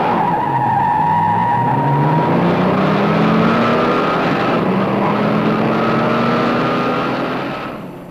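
A 1966 Chevrolet with a 396 cubic inch turbojet engine races a Ford with a 390 cubic inch Thunderbird engine, steady loud engine roar with rising revs and tire squeal, close and continuous until fading at the end.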